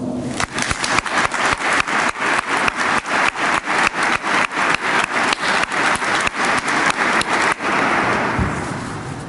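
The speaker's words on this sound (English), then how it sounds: "So please, give yourselves a round of applause." A crowd at an annual awards ceremony for corrections workers applauds continuously, the clapping marked by regular rhythmic surges, before trailing off near the end.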